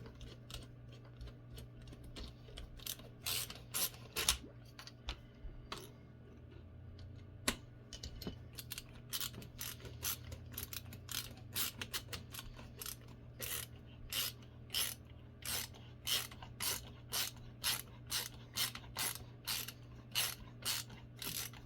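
A screw is driven into a Larue MBT trigger assembly by hand, giving a long run of crisp, evenly spaced ratcheting clicks that come in quick clusters with brief pauses, close and fairly quiet.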